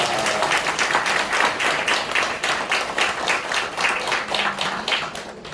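A church congregation applauds together, a sustained burst of many hands clapping in a roughly steady rhythm at close range, tapering slightly at the end.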